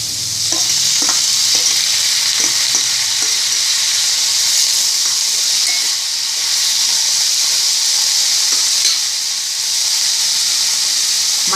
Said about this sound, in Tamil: இப்போ வந்து வெங்காயம் வந்து ஒரு சின்ன சைஸில் வெங்காயம் வந்து கட் பண்ணி வதக்கின்னு இருக்கேன்